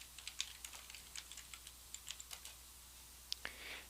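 Fast, soft typing on a computer keyboard, with steady light key taps for a few seconds and a pair of sharper strikes near the end, in a quiet room during a library database search.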